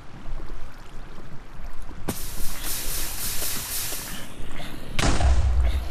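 Explosions in Minecraft played with a tornado mod: a sudden broad, hissing blast hits about two seconds in, then a second heavier, booming blast near the end, over a steady noisy background.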